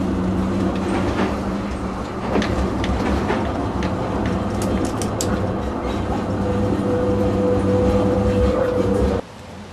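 An M-class tram rumbles steadily into a station in Essen with a rising metallic squeal of wheels, then the noise drops off abruptly near the end.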